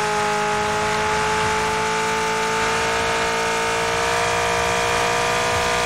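A car engine drones loud and steady as the vehicle drives off-road across rough terrain in PUBG, with a sustained mid-pitched roar and no speech.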